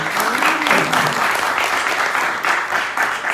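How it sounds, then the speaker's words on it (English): Applause from the audience at a Zimbabwe UK business chamber conference in London, a steady, dense wash of many hands clapping that stays loud and close for the whole stretch, with a little crowd murmur underneath. "Clap hands for them."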